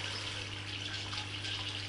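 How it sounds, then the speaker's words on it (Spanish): Water bubbling continuously in a small container of a nativity scene, driven by an air motor pumping air in from below, a steady near gurgling hiss with a low hum underneath. "Está hirviendo el agua"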